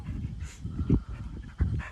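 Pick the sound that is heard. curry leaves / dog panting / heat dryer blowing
dog panting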